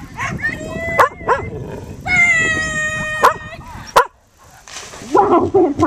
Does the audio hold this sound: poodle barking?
yes